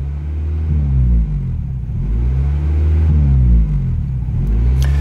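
A car engine revving high while idling at about 2,500 rpm, rising and falling in repeated surges, loud and close with a steady low rumble and no talk.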